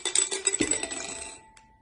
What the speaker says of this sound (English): we will make a short test right now with transparent dice, Zontic dice, precision dice with 4 faces combination